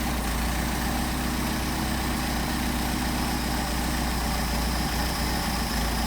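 Engine idles steadily at close range with a constant low drone, while the idle mixture screw on a Solex 44PHH carburetor is adjusted; no voices are heard.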